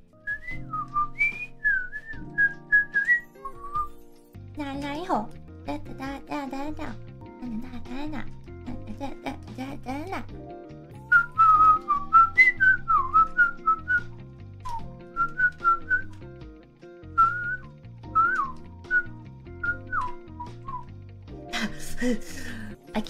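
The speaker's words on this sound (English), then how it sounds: "So I just whistle it." A woman whistles a bouncy pop song melody, pitched runs and short phrases repeating over a steady backing track, close and clear with brief pauses between phrases.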